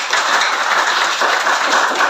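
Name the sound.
applause for a group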